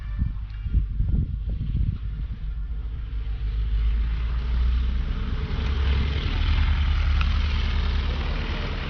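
An airplane near an airport beside a lot of parked Saab cars builds into a deep, swelling roar after a few low knocks and rumbles at the start, growing louder and steadier as it goes.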